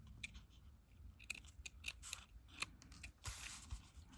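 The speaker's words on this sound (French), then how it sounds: "je vais couper l'excédent" Scissors snip through excess paper on a digital-kit craft project for bookmarks and lace decoration, a run of quiet, close, irregular cuts with no one talking.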